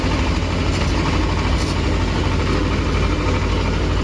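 A tractor engine runs steadily in the cab during field spraying work, a loud continuous low rumble at an even pitch with no pauses.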